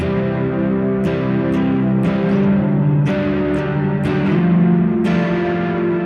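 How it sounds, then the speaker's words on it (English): An electric guitar played through reverb, a RAT distortion, chorus and delay pedals rings out in loud sustained chords, each strum struck about once a second and trailing into a wide, washy, echoing tail. "that's the reverb, the rat, the chorus, and the delay all on"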